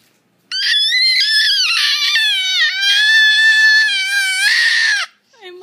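A small girl screams long and shrill, imitating her sister: one sustained, wavering high-pitched shriek lasting several seconds, very close and loud, then breaking off into a brief breathy sound.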